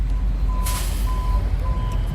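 Steady high reversing beeps from a tow truck in rainy downtown Denver repeat at an even pace over a low traffic rumble, with a brief hiss of air partway through.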